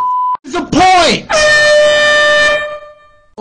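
A loud, sustained air horn blast with a bright, buzzy tone rings out for over a second, preceded by a short beep and a brief swooping honk.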